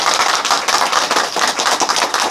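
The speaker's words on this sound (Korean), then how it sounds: "우리 강의해 주신 전현복 3대회 프론트에게 다시 한번 큰 박수 부탁드립니다" A small audience at a blockchain economics lecture claps for the lecturer, close and loud, a brisk uneven patter of hands lasting a couple of seconds.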